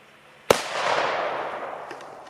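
A 0.2-gram Tarantula firecracker goes off outdoors in a single sharp, loud bang, followed by a long, fading wash of echo and crackle.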